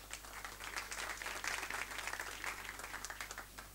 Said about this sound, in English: Big round of applause, please, for Alexander.